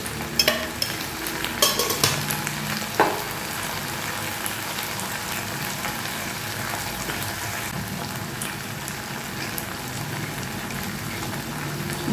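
Raw jackfruit chili being stirred in a frying pan at home, with a steady hiss of frying under scattered scraping and clinking strokes at close range and no voices.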